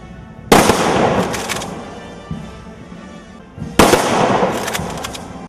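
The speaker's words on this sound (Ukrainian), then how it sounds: "Відтак звитягу воїнів вшанували салютом." Two loud firework salute bursts several seconds apart at a war memorial ceremony, each a sharp bang followed by crackling that fades over a couple of seconds.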